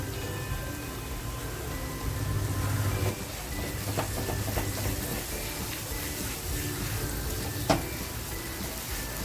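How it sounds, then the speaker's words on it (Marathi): Homemade masala with turmeric and Byadgi chillies sizzles as it is sautéed in a pan for a fish recipe, a steady fry hiss with occasional scraping stir clicks, close and continuous. "छान आपल्याला परतवून घ्यायचा आहे मसाला"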